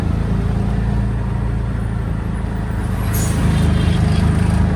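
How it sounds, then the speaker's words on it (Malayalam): Heavy engine rumble from buses on a road near the Nine Arch Bridge in Ella, Sri Lanka, at night. It is steady and close, with a slight swell as a vehicle passes. "ഇതൊക്കെ ആ ഭാഗത്ത് വരുന്ന ബസ്സുകൾ തന്നെയാണ്"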